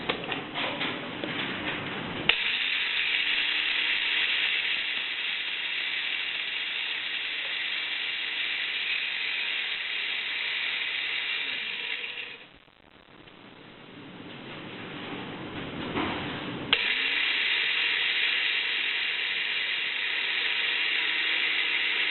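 A cup grinder runs with a steady, muffled mechanical whir as it grinds wheat into flour, with a brief dip near the middle where it stops before starting again.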